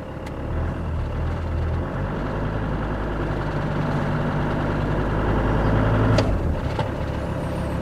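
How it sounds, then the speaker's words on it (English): A Land Rover engine idling at about 850 RPM, a steady low rumble close by that swells slightly near the end, with a couple of brief clicks. "So let's just rev the engine."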